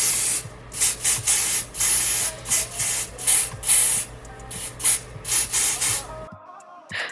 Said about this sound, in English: I'm out of freeze spray, like most of them, so I'm using the Kiss Super Stay.